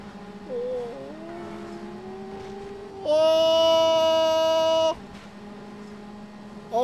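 Racing cars and a UPS van in the Need For Speed Underground video game: a steady engine drone, then a loud, sustained horn-like blast for about two seconds before the engines carry on.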